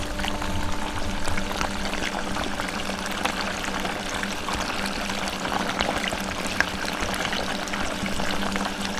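Water pours and rushes steadily through a homemade aluminum cleanup sluice being tested with a Dream Mat, a continuous close splashing flow with no talking.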